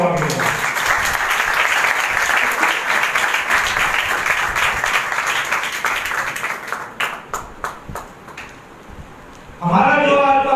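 Loud applause from a large church congregation fills most of the clip, thinning into scattered claps before a voice starts speaking in Hindi at the end.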